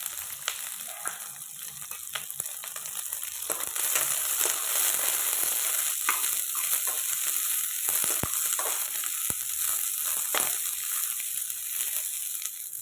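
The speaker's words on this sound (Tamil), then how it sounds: "நல்லா ஃப்ரை ஆனதும் இதோட ஆனியனும் ஆட் பண்ணிக்கலாம்." Onions and chili frying with torn parotta in an oily pan, an even crackling sizzle that grows louder partway through, with scattered scraping and stirring clicks and no speech.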